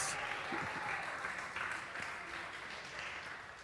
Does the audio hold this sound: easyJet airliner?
no